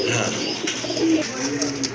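Pigeons coo softly on a farm, low repeated calls over a steady hum of background noise, with no voices heard.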